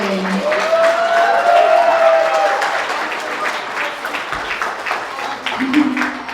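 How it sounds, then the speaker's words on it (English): Guests at a birthday dinner applaud the birthday boy, a sustained round of clapping from a room of people with a few voices rising over it near the start and end. "help me put your hands in applause for the birthday boy"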